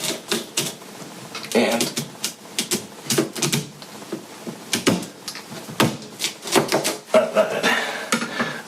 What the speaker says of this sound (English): Probably want to find the skinnier side here and cut along that axis.